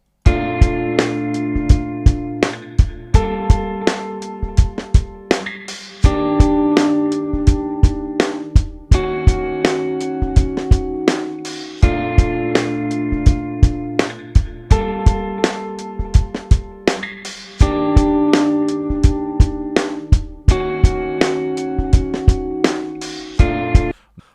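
Laid-back lo-fi hip-hop groove built on repeating guitar chords and crisp, punchy drums looping steadily throughout, purely instrumental.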